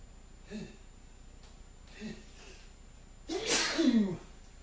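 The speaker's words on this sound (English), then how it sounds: "that was a tickly sneeze." A man sneezes, preceded by two soft breathy catches, then one loud close sneeze with a drawn-out vocal release.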